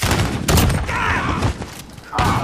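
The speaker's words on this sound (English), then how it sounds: "My shotgun doesn't shoot that thing." Shotgun blasts in a chaotic Call of Duty multiplayer match: loud, heavy booming bursts, one near the start and another near the end, separated by a lower-level stretch with scattered game noise.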